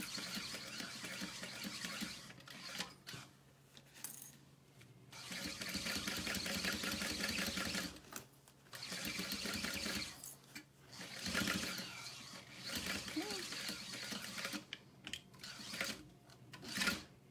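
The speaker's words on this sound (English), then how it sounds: "you just want to sew right next to it to catch that cording" Sewing machine stitches beside the piping on a leather pouch, close and steady in several long runs broken by brief pauses.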